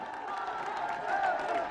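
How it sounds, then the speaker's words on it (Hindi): Crowd applause for Prime Minister Modi at an event in Jewar, Uttar Pradesh, a brief steady wash of clapping at moderate distance that swells slightly toward the end. "आप सब तालियों के प्रणाम उन तक पहुंचाएं"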